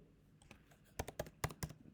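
Code is typed quietly on a computer keyboard: a few soft taps, then a quick cluster of sharper key clicks in an uneven rhythm, close and faint.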